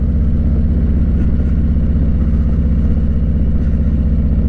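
A 2022 Harley-Davidson Street Glide Special fitted with a 131 Screamin' Eagle kit, its big V-twin giving a loud, deep, steady pulsing rumble at low throttle, heard close up and without any talk.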